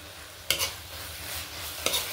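Carrot halwa being stirred with sugar and cardamom powder, with two sharp scraping strokes of a spoon against the pan over a soft continuous sizzle, close up.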